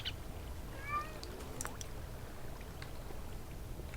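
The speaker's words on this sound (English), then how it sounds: "Sounds like a bear's outside fighting a cat for some random reason." A cat meows softly in a Technic Minecraft game, a couple of faint wavering cries over a low, steady ambient hum with light clicks.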